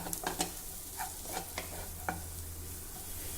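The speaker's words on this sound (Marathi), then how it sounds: "आणि ही पत्ता पत्ताकोबी आपल्याला सुरुवातीला घालायची आहे आणि हे व्यवस्थित परतून घेऊ" Shredded cabbage sautéed with carrots and beans in a pan, a soft, low sizzle broken by several distinct scraping stirs of a spatula, spaced irregularly and heard close with no talking.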